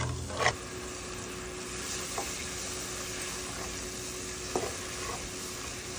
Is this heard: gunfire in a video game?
no